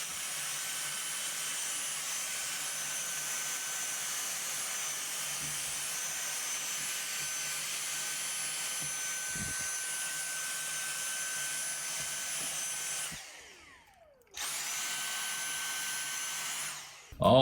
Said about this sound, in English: Just a little shop vac, some small, not shop vac, but a little handheld like this one here.